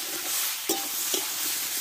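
Fish-head curry with katla head and ash gourd being sautéed with turmeric in a pan, giving a steady close sizzle of frying with a couple of soft stirring scrapes, no voices.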